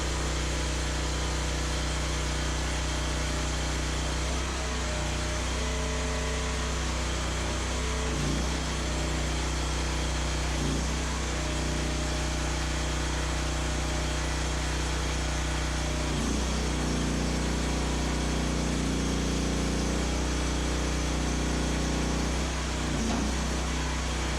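A firewood processor's engine runs steadily during a hydraulics test, a loud continuous drone with a few faint clunks and surges, no talking.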